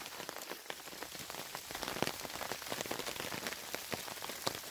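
Steady rain pattering on a tarp and gear during a tropical storm at a solo campsite, a dense, continuous hiss of drops with scattered sharper taps, close and even throughout with no voices.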